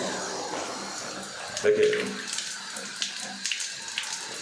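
A dual flush toilet with a replaced flush valve refilling with water, a continuous hiss of water flowing into the cistern under a man's speech, with small splashes and clicks near the mic.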